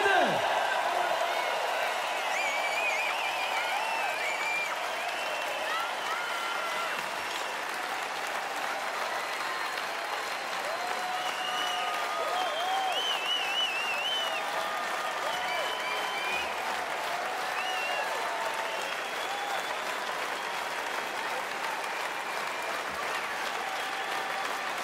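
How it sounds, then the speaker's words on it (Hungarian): Steady applause from a large arena crowd at a band's 40th-anniversary jubilee concert, dense and continuous with scattered whoops and cheers, and no talking over it. "Na most kérünk egy nagy tapsot neki!"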